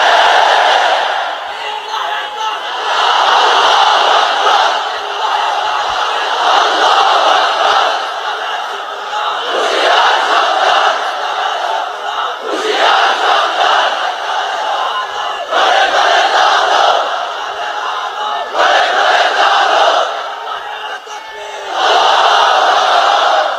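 A large crowd at a religious gathering roars in unison, loud and sustained, with repeated bursts of shouting and chanting broken by brief pauses.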